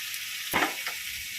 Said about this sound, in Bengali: এবার আমি এই মুইঠাগুলো যে ভেজে রেখেছি এগুলো দিয়ে কষাবো।